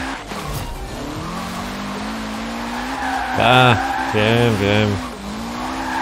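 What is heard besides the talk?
Mazda RX-7 racing Wankel engine in video game Forza Horizon 4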